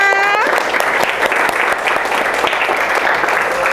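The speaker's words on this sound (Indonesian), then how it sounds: "tepuk tangan buat kita semua" Students in a classroom burst into loud, steady group applause after a history lesson answer, dense clapping continuing to the end right after a brief voice at the start.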